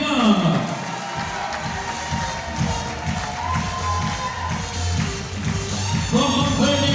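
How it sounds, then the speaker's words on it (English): At a professional ballroom dance championship, a crowd cheers and claps loudly and continuously for a dance couple, with whoops rising above the steady roar and a voice sounding through the noise. "We want you to give them a big round of applause."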